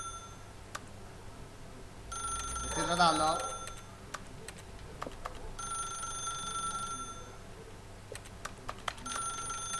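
Electronic telephone ring in the video game The Stanley Parable: Ultra Deluxe, repeated bursts of a bright trilling ring at moderate volume, with someone speaking briefly over it and game background hum.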